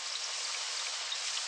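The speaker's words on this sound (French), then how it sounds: "Cette pluie arrive à point nommé." Steady rain pours down over a football match in a cartoon, a dense even hiss of falling drops with no voices.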